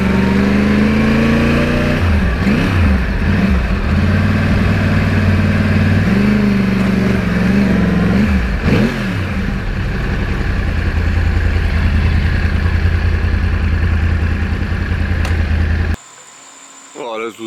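A Yamaha R1 crossplane motorcycle engine revs up close on back roads, its loud, throaty tone rising and falling through several throttle blips before settling into a steady drone that cuts off abruptly near the end.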